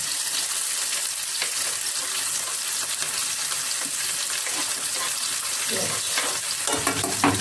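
Garlic, onion and green chili fry in oil with cumin, making a continuous bright sizzle with scraping stirs near the end and no speech.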